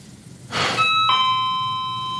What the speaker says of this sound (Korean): 초인종 소리야.